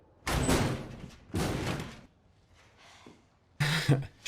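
A door being pushed open against stuff piled behind it in The Last of Us, heard as three loud scraping, thudding bursts of shoving, with a quieter rustle between them and no talk.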